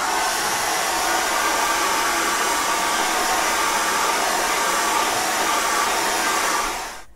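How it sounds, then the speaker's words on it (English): Hair dryer blowing on wet acrylic paint of a winter birch tree painting, a loud steady whooshing roar held evenly for about seven seconds before cutting off at the end. "either get a hairdryer, which is what I'm going to do"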